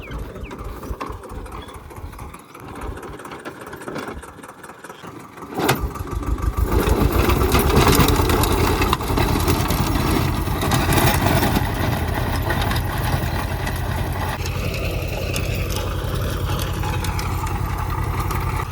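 A tractor engine runs steadily with a low, continuous mid-pitched drone, close and loud, rising in intensity partway through as the load or throttle increases. The tractor is pulling a chaff-cutter trolley up a slope.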